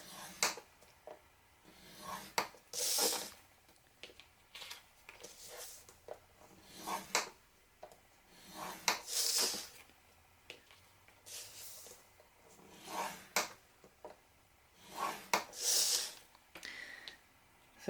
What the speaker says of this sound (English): So we're scoring them on the long, like scoring down on the long side.